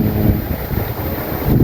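A dry wind blows steadily across open fields, rumbling against the microphone as a continuous broad rush with slight swells and no voices.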